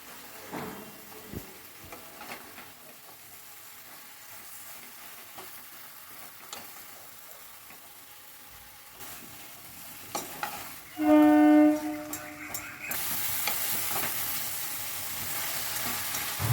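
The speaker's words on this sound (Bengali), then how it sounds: "এবার লাউয়ের টুকরোগুলো দিয়ে দিলাম, দিয়ে সব কিছু আবারও ভালো করে মিশিয়ে নিচ্ছি।" Bottle gourd pieces stirred into a frying spice paste in a pan, a steady sizzle with scraping spoon strokes throughout and a brief sharp clatter near the end; no one speaks.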